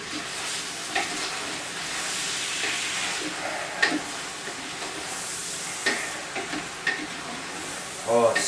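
Chopped onions cooking down in Italian gravy, a continuous close sizzle and steamy hiss broken by occasional spoon stirs and clinks against the pot.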